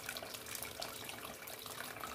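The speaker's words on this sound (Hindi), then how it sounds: "आपके चावल कैसे हैं वैसा पानी डालो" Water poured onto half a kilo of rice for moong dal khichdi, a steady broadband splashing and gushing that runs continuously and fairly loud for the whole short stretch, with no talk over it.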